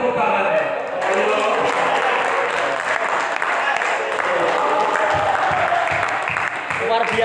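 A church congregation applauds together, a continuous mass of clapping that carries on while a speaker talks over it, easing off toward the end.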